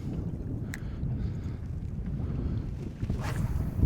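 Steady wind gusting over an open stretch of the Welsh coast during bass fishing, a continuous low rumbling buffet of microphone wind that swells briefly near the end, with no talk.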